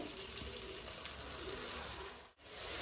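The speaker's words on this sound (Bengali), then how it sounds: "পরিমাণে জল দেবো, নাহলে মশলাটা পুড়ে যাবে।" Water runs in a steady gushing stream into frying spices for a jackfruit curry with tomatoes, a continuous soft rush at low volume with a brief dip near the end.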